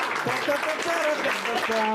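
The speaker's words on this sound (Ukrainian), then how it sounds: "Під ваші оплески." Audience applause at a stand-up comedy show, a short burst of clapping mixed with voices and chatter, steady across the moment.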